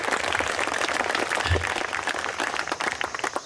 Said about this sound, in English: Give a big clap to Dhyanama Chakra, Karnataka Dhyanama Chakra.